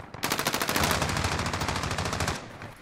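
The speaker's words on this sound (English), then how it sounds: "I'm getting shot in the back." Rapid automatic gunfire in Call of Duty Warzone, a loud, dense burst of close shots fired in quick succession for about two seconds, then tailing off.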